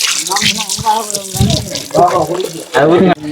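Water runs and splashes in short bursts for bathing, loud and close, with a voice speaking between the pours.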